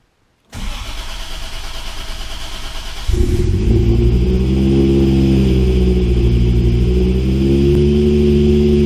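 A single-turbo LS-swapped Ford Ranger engine cranks over briefly on a cold start, then catches and settles into a loud, steady rumbling idle close by.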